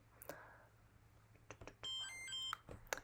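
A short electronic tone from a blood glucose meter sounds twice in steady bursts, fairly clear, with some faint clicks and handling noise before it and a sharp chirp at the end.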